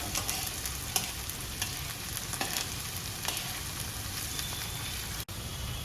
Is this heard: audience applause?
no